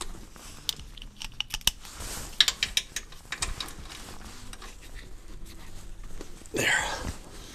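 A hand ratchet clicks in short uneven bursts while tightening an 18 bolt on a trackbar of a lifted vehicle, close and fairly quiet, with brief pauses and a few metallic clinks.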